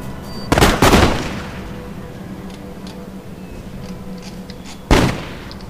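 Musket volleys crack in the Empire Total War battle game, two loud bursts of crackling gunfire about four seconds apart, with faint scattered pops and battlefield noise between them.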